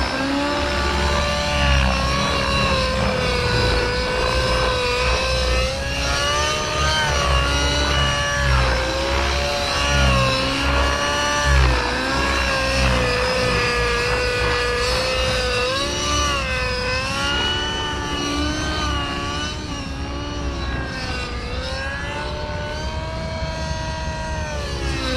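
An Align Trex 600 nitro RC helicopter engine drones loud and close without a break, its pitch rising and falling as the throttle shifts, with no talking over it.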